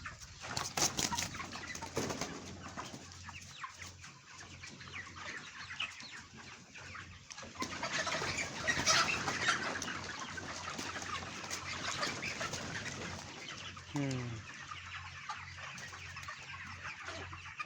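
A poultry chicken caught in a net-enclosed farm clucks and flaps while struggling to get out, with close, busy fowl calls and wing bursts throughout, rising in a flurry midway.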